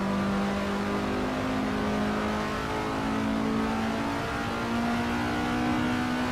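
Race car engine in the Assetto Corsa racing game accelerating hard out of a corner, a loud, steady, sustained drone with a rising tone and no pauses throughout.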